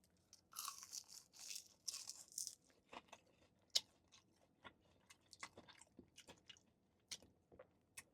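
Fried chicken from Peck Peck bitten with a loud crisp crunch, followed by a run of quieter, irregular chewing crunches close to the mouth, with no talk over it.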